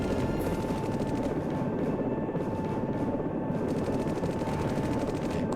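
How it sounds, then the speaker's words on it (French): Steady, loud rotor chop of a helicopter in a video game as it takes damage from gunfire, fast pulsing and constant throughout, with no clearly separate gunshot impacts. "l'hélico vient encore d'être endommagé par un tir"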